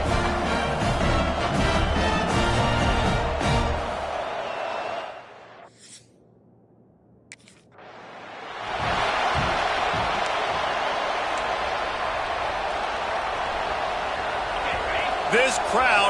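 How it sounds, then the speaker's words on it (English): A stadium crowd in EA Sports College Football roars with dense cheering that drops away briefly to near silence midway, then surges back to a sustained loud swell, with commentators talking over it. "This crowd bringing an ear-splitting welcome to their visitors."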